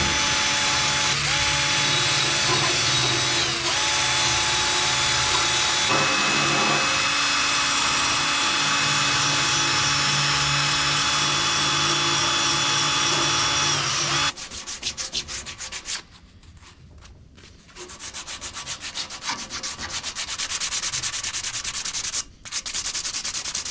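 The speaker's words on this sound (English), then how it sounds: "after about 2 minutes of shaking, you'll notice a few dimples, indents, starting to form on the bottom of the can" A 450 ml aerosol can of Raptor Liner bedliner coating with a mixing ball inside, shaken hard, giving a dense, fast stream of rattling clicks over steady broadband noise, loud and close, with a brief pause near the end and no talk.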